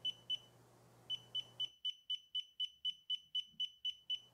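Short high-pitched electronic beeps from a SNDWAY SW-S50 laser distance meter, two at first, then a steady rapid series of evenly spaced chirps, clear and close, after a brief background hum stops.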